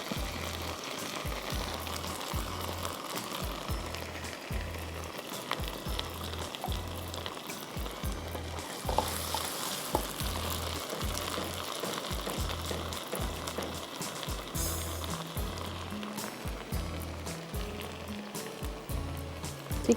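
Garlic and oyster sauce sizzle and fry steadily in a hot pan while cooking Tom Kha Kai soup, with a continuous crackling hiss and bubbling over about twenty seconds and no talking.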